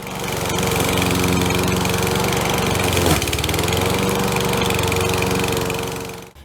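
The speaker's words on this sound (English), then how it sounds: "maybe I still want to run the lawnmower over it to help it not become matted next season" A lawn mower runs close by, mowing over older dry hay in a garden, its engine a loud, steady drone that holds for several seconds before cutting off at the end.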